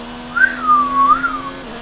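A person whistles a single wavering tune that rises, dips and rises again, close and clear over a steady low hum from racing-game audio in an F1 2019 career mode session.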